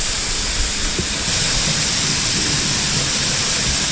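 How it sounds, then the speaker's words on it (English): A roaring waterfall inside a cave, a dense, loud and steady hiss of rushing water filling the space without pause, heard close with no voices. "that is a roaring waterfall"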